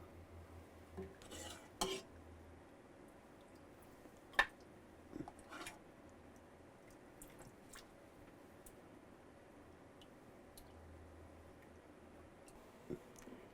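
A ladle scrapes and clinks against a pot while scooping creamy white chicken chili made with heavy whipping cream and sour cream: sparse, quiet metallic taps and scrapes separated by stretches of near silence.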